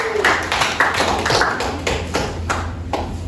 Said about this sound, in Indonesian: Ya, beri tepuk tangan untuk kalian semua.